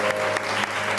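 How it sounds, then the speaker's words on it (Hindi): A studio audience applauds for a birthday celebration on a television entertainment show, a brief, loud, continuous burst of clapping lasting about a second, with a steady tonal hum underneath. "बहुत सारी तालियां हसन के लिए"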